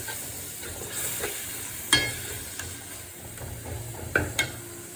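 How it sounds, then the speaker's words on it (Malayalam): Tamarind water goes into a hot pan of fish curry and sizzles steadily, with spoon stirs and scrapes and a few sharp clinks. It is close and moderately loud, with no talking. "അപ്പോൾ ഞാൻ പുളി ഒഴിച്ചു കൊടുത്തു."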